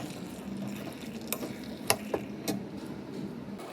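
Carrot halwa with sugar being stir-fried in a pan: a soft, low background hiss with a few light clicks and scrapes of a spoon against the pan, close and quiet, no voices.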